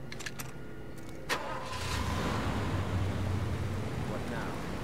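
Far Cry 2 video game car engine starting with a cranking burst, then settling into a steady mid-pitched engine hum as the vehicle pulls away.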